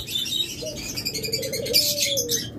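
A violet opaline ring-necked lovebird calls with a few thin, high chirps and a short whistled note, close by and alone against a soft room hum.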